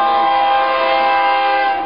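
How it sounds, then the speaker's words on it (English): A loud, sustained train horn sounds close by in a single steady blast that tapers off at the end, with the rumble of a passing train underneath and no talking. "It would be a train right now"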